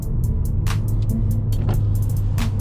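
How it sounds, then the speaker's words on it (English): A 2014 Ford Taurus SHO engine hums steadily in low gear, a constant low drone from inside the cabin with faint ticking clicks over it. "Car starting to rev out a little more"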